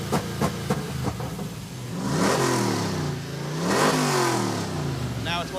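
A Hemi-swapped AMC Gremlin engine revs hard in repeated surges against an RPM limit, each climb rising then cutting back, loud and close, with people's voices briefly over the start.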